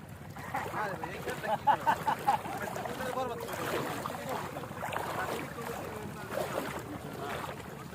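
A small boat crossing the open sea toward Char Bijoy island: a steady wash of water and wind noise runs throughout, with brief knocks near the start and voices talking over it.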